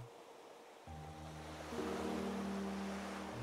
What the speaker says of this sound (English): being out in nature, listening to the waves, the birds, the surrounding sounds in the moment